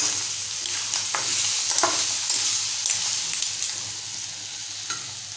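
A spoon stirs clams masala in a hot pan, a Malvani-style clam curry, giving a loud, continuous sizzle with scraping strokes across the pan and no voices.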